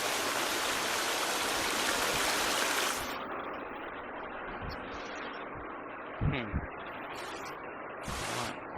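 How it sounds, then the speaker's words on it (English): Rushing water from a waterfall echoes in a video-game cave, a steady broadband roar that is loud at first, then drops to a softer, duller rush, with a few faint knocks and splashes. "Must be right close to us, a waterfall or some such."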